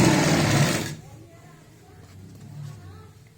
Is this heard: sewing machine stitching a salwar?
yes